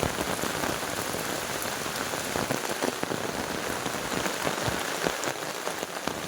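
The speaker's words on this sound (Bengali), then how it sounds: "খুব বৃষ্টি, খুব" Heavy rain falls in a thick, unbroken downpour, loud and close, with drops drumming and splashing on nearby surfaces and no voices.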